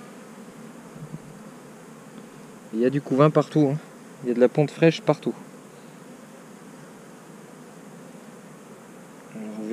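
Honeybees buzz steadily in an open hive during an inspection of a colony still weak in bees, a soft continuous hum under a voice speaking in French through the middle of the clip.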